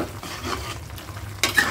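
An egg stirred into frying capcay vegetables in a pan: close, steady sizzle with scraping stirs, ending in a louder clatter of utensil against pan, with no voices.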